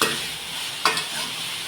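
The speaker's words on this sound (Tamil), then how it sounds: "நல்லா தக்காளி, வெங்காயம் நல்லா வதங்கின பிறகு" Tomatoes and onions sautéing for tomato sambar, a steady close sizzle with one quick sharp clink of a spoon against the pan partway through.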